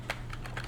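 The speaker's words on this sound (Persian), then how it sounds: "میتونم برای خودم تایپ کنم" Typing on a computer keyboard while entering a to-do list in OneNote, four quick soft key clicks in under a second, close and quiet.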